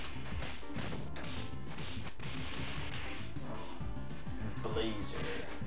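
Streets of Rage 2 on the Sega Mega Drive, with rapid punches, hits and crashes from a fight playing over the game's music, thumping repeatedly throughout.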